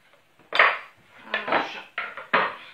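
A knife cuts an eggplant on a cutting board in four distinct strokes, each a close, scraping thunk that fades quickly, with short pauses between.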